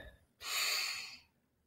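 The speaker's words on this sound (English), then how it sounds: "Take 3 deep breaths." A single deep, forceful breath through the nose or mouth during a breathing exercise, close and breathy, lasting under a second before fading out.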